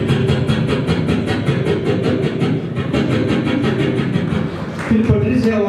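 A voice imitates a train rolling along rails, producing a steady, evenly spaced chugging rhythm that repeats for several seconds at close range.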